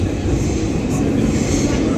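Steady low rumble of a New York City R subway train riding along the rails between Queens Plaza and Elmhurst Avenue in Queens, constant and loud, with no voices.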